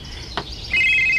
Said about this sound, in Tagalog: Uy, ang akong cellphone.